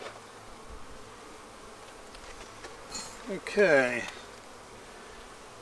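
Honeybees hum at a low level as frames are moved one at a time back into a Flow Hive, with a brief scraping flurry midway and one short spoken word.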